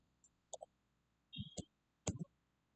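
Computer mouse clicking while opening a folder: a few sharp, quiet clicks in small clusters against near silence, some in quick doubles.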